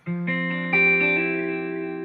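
A soul-style chord on electric guitar, strummed and built up note by note, ringing with a slightly effected, sustained tone that fades gently at the end.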